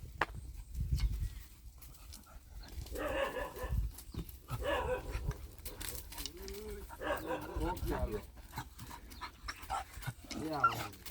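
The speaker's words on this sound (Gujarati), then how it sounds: "જીરું અમારું કૂતરું શરમાઈ ગયું." A pet dog in a village home barks in short bursts and pants among scattered household sounds, with people talking throughout.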